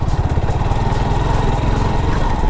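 A motorcycle engine runs with a steady, buzzy drone while ridden off-road on a small trail, close and loud, holding an even pitch throughout with no one speaking.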